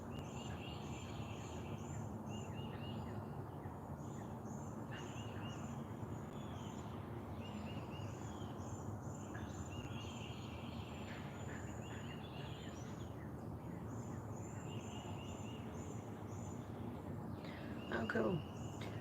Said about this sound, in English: listening to the birds. We got some frogs that are still doing their thing this morning.